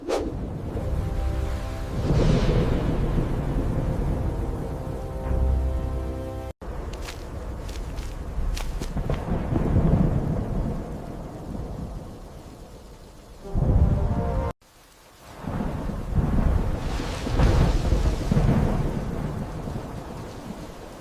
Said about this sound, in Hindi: तुम्हारे अहंकार ने इस तूफान को तुम्हारे राज्य पर ला दिया है